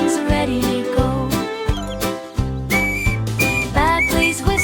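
Whistle playing a bright, cheerful tune in a children's alphabet band song, loud and up front over a bouncy backing beat with tinkling accompaniment throughout.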